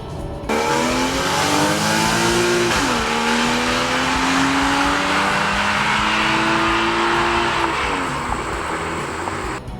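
A 2014 Porsche Cayman's 275 hp flat-six engine revs hard and loud, pitch rising and falling through several sweeps, with no talking.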